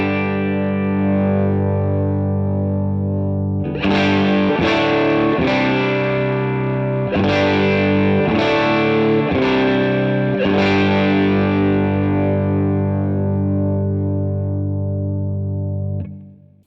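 Electric guitar through a Suhr PT15 IR amp with channel 1 gain turned up into tweedy breakup, loud and close, a sustained chord then a run of rhythmic strummed chords, fading at the end.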